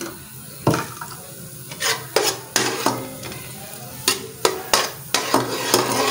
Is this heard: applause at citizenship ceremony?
no